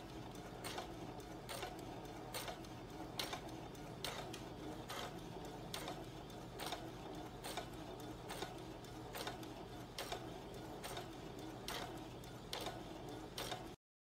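A sewing machine stitches a tweed jacket slowly at a long stitch length, giving a steady run of even mechanical clicks and a low motor hum, quiet and close, until it stops abruptly.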